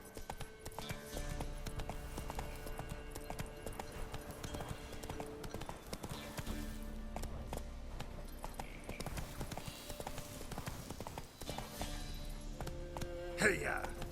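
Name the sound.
horse Roach galloping in The Witcher 3 video game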